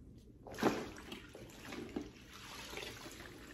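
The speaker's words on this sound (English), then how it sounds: "You basically put it in the water and then you just rinse it out." An O-Cedar mop is dipped and rinsed in a water bucket while cleaning a wood floor: a brief splash, then steady running and sloshing water close by.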